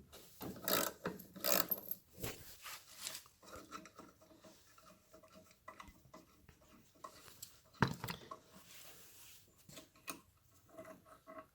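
Hand ratchet turning out 10mm bolts along the front shroud of a John Deere 4110 tractor, giving close, uneven bursts of clicking with short pauses and clanks between them and no talk.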